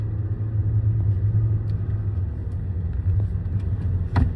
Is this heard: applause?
no